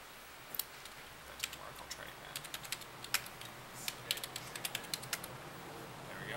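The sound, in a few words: typing login credentials on a computer keyboard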